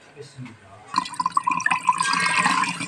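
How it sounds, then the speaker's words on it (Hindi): Soaked rice is washed with water by hand, giving soft splashing and trickling sounds that start quietly and grow busier and louder toward the end, close by. "बेगम साहबा ने चावल इधर गीले करके रखे हुए हैं कब लेना खा जाए इसको मजीद धो के उधर रख देते हैं"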